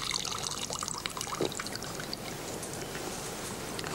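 Filtered drinking water pours steadily into a glass, a continuous close trickle over soft room noise.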